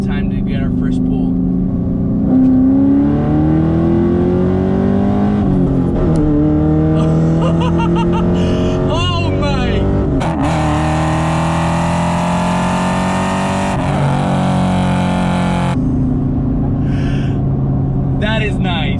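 Fifth-generation Chevrolet Camaro SS V8, track-modified, accelerating hard on a highway, a loud interior engine roar climbing in pitch through several gear shifts, with a voice speaking over it at times.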